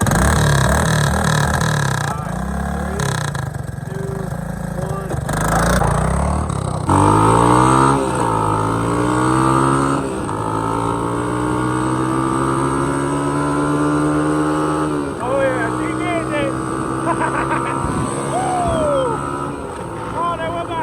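Honda 200S three-wheeler with a new carburetor and air filter, engine revving hard near full throttle with rising and falling pitch sweeps, loud and close, with a voice talking over it.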